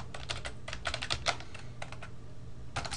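Keys clatter on a computer keyboard as a Linux terminal command is typed, a close, quick burst of clicks with brief pauses, then a short final flurry.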